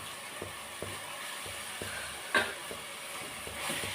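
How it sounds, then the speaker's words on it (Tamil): Boneless chicken pieces stir-fry in hot oil, a steady sizzle and hiss with a soft rhythmic scrape of stirring every half second or so and one brief clatter midway. "இதை இந்த எண்ணெயிலேயே இதை பரட்டிக்கிட்டே இருக்கணும்"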